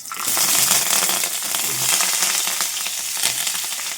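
Onion, green chilli and curry leaves crackle and sizzle in hot oil in a pan, a dense, steady spitting hiss close up with small popping bursts throughout.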